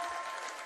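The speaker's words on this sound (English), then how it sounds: "The Benalla Breakers crowd is ecstatic with that." Crowd at a Benalla Breakers men's basketball grand final in the North East CBL clapping and cheering, a brief dense wash of applause at steady moderate loudness.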